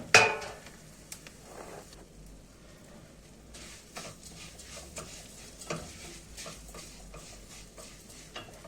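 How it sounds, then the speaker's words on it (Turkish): Bulgur poured into a pot of fried vermicelli, heard as soft scattered rustles and light scraping clatter of grains and utensil against the pot after a sharp initial knock. "Arkadaşlar şehriyem tamamen kızardı. Şimdi bulgurunu koyacağım."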